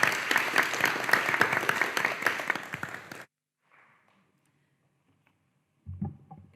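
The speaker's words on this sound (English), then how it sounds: "A round of applause for our stellar panelists here." Audience applause for panelists at the close of an academic genocide conference panel, a dense burst of clapping that runs steadily for about three seconds then cuts off into near silence before a brief thump.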